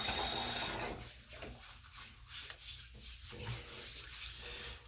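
Soft, steady scrubbing of skin on the face before a shave, a close rasping rub that swells and fades in short strokes, quiet and alone with no talking.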